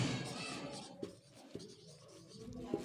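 Scratchy writing strokes as a probability formula is written out in a Class 10 maths lesson, a steady close scribble with a few sharper taps, no voices.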